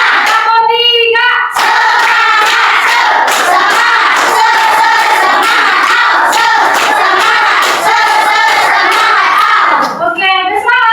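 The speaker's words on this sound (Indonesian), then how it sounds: "Tepuk satu, tepuk dua, tepuk tiga." A class of children claps in a counted rhythm, sharp unison hand claps in quick patterned bursts, loud and close, with young voices chanting along at the start and end.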